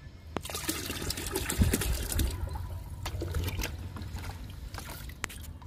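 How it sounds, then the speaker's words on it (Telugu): Homemade papaya liquid fertilizer is poured into a bucket of water, a close trickling, splashing stream with a few sharp knocks against the bucket and no talking. "ఫస్ట్ బొప్పాయి లిక్విడ్ పోస్తున్నాను వాటర్లో"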